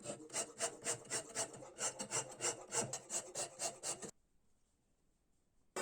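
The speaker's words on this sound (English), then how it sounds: "bevel filing" Hand file rasping along the bevel of a knife blade cut from an old saw blade, a brisk rhythmic series of close, loud strokes for about four seconds before stopping into near silence.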